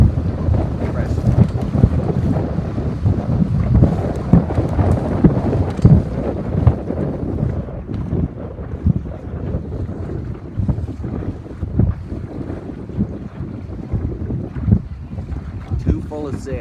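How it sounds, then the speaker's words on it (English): Wind buffets steadily on the water during a Sabot dinghy race at about ten knots, a loud continuous rush with lapping waves and occasional voices underneath. "It's about 10 knots of wind, maybe 9."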